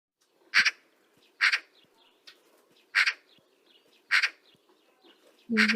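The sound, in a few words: magpie call played in a bird-sound learning game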